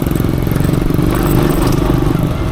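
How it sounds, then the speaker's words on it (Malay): A 130cc Avita Ranger Max Explorer motorcycle engine running steadily up close, a loud, rapid, even putter with rattly mechanical clatter and no pauses. "Motor Avita Ranger Max Explorer 130cc."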